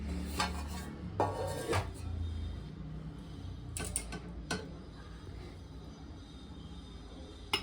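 A metal lid lifted off a stack of thatte idli steamer plates gives a few sharp clanks and scrapes, spaced apart and fairly close over quiet kitchen background.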